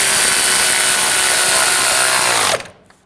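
A power tool tightens a nut on the rear suspension link of a 2006-2010 BMW 550i, giving a loud, steady mechanical whir up close for about two and a half seconds before cutting off abruptly.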